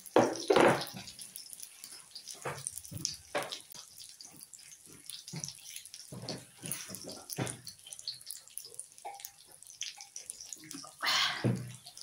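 Drinking water pours from a tap in a home kitchen, a steady splashing and trickling stream with irregular bursts and drips, close by and fairly quiet, with no talking.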